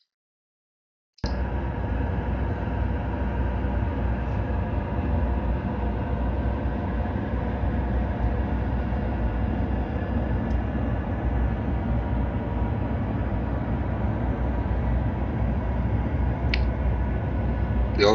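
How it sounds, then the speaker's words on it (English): Inside the cockpit of an ATR 72-600 turboprop airliner, a steady broadband engine and airflow drone starts abruptly after a moment of silence and holds evenly, with a few faint clicks. "presenting you a short video from the cockpit of an ATR 72-600 series aircraft"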